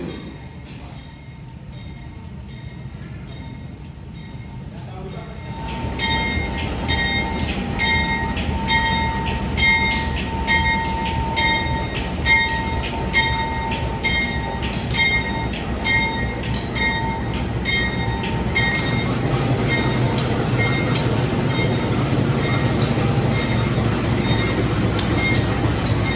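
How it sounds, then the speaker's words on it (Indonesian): The Kahuripan passenger train rolls into track 1 at Blitar station, starting quiet, then a loud stretch of rhythmic wheel clatter over rail joints with metallic squeal and a steady tone, building and continuing without talk. "ini rangkaian kereta api Kahuripan yang akan saya naiki baru dilansir masuk ke jalur 1 stasiun Blitar"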